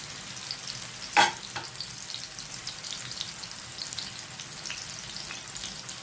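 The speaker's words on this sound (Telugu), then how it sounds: "ఇలాగ మంచిగా ఫిష్ ఫ్రై అవ్వాలండి" Pieces of konem fish frying in oil, spaced apart in the pan, give off an even, soft sizzle close by, broken once early by a sharp clatter.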